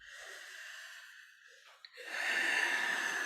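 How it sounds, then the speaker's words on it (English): A slow, deep breath: a quiet drawn-in inhale that builds into a louder, airy exhale, close and alone with no talking. "Nice deep breath."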